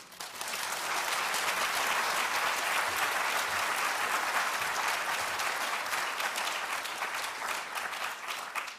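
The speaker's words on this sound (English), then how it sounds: "please do join me in a round of applause" Audience at a digital preservation awards ceremony giving a round of applause, a dense, even patter of many hands that swells quickly and holds steady before tapering off.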